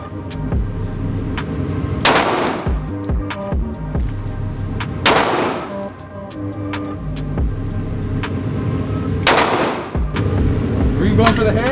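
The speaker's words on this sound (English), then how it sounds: "He really does shoot like a gangster." Handgun shots at an outdoor gun range, one-handed firing: a few loud, sharp cracks spaced several seconds apart, with many quieter distant shots from other shooters and some voices in between.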